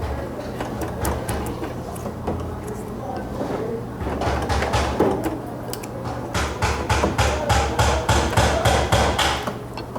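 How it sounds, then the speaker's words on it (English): A chisel struck by a hammer while cutting out wood for furniture, giving a series of sharp, close taps with a busier run of rapid strikes near the end, heard over workshop background. "then he'll come and start chiseling that part out"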